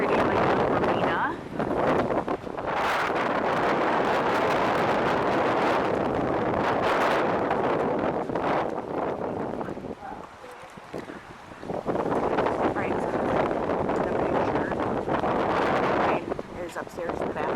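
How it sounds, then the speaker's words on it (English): Strong wind roars almost continuously across the microphone at a marina, buffeting loudly with a brief lull near the middle. Faint voices may sit under the gusts. "I'm sorry if you guys are going to be hearing nothing but wind"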